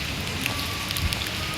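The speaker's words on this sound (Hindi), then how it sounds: "थोड़ी थोड़ी बारिश हो रही है मध्यम सी।" Light, steady rain patters outdoors on a cool, breezy day, a dense continuous hiss with scattered drops close by and no talking.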